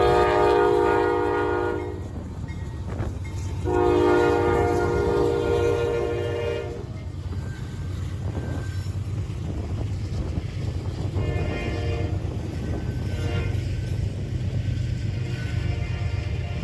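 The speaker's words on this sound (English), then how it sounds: "We turn our cameras for NS 277 for Chicago, Illinois, carrying a colorful array of containers." Norfolk Southern NS 277, a container train bound for Chicago, passes close by with a loud rumbling roll of wagons, while its horn blasts in two long bursts near the start and weaker sounds follow later.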